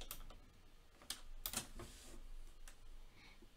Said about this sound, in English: So let's go ahead and click on that and we'll type in hello world.